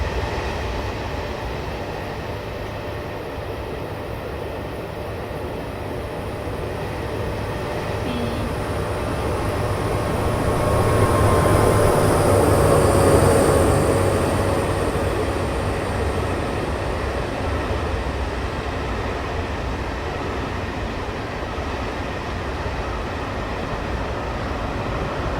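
A Class 66 diesel locomotive hauling an HST in the Train Sim World 2021 game passes with a continuous rail rumble that swells to a peak midway, then settles into a steady roll, alone without talk.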